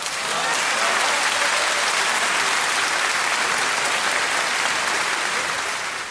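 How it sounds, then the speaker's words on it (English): Thick, sustained audience applause at a comedy talk show, a broad wash of many hands clapping at an even level for several seconds before tapering slightly at the end. "let me even give an applause to that guy"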